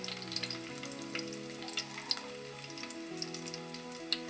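Curry leaves and garlic sizzle and crackle in hot oil in a pan for a village-style vegetable saaru, a steady close frying hiss with small pops and spatters.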